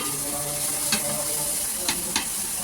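Semolina roasted in a pan for sheera gets stirred, with a soft continuous sizzle and three short scraping strokes, close and fairly quiet, no speech.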